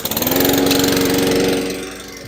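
Small gasoline engine cranks with rapid chugging pulses, catches and runs at a steady loud idle for over a second, then drops off and fades as it winds down.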